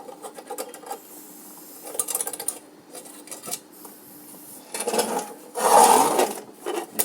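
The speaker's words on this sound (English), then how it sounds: "This is the method of removing retaining spring." Metal parts of an old mechanical weight scale click, scrape and rattle as a retaining spring is worked loose, in uneven bursts that end in a louder stretch of metallic scraping.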